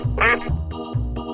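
Duck in a 3D animal slide game quacks three times in quick, even succession, sharp nasal calls heard up close with no talk.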